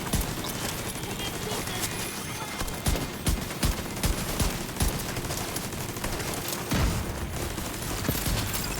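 Pistol shots ring out in The Division 2 over a busy backdrop of game combat, several sharp cracks spaced irregularly amid continuous rumble and other firing.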